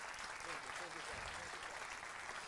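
Audience applause for a team at a Demo Day event, a brief, even wash of many hands clapping, fairly faint and distant, with voices blended in.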